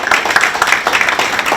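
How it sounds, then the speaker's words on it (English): An audience claps loudly in an irregular burst of many hands, a short, close patter at a talk on LGBTQ+ issues. "And this, yes, please give applause for that."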